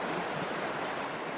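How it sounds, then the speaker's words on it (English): West fork of the Big Lost River, a mountain creek, rushing in a steady broadband wash of flowing water, close and continuous with no voices. "Gorgeous creek up here, just stunning area"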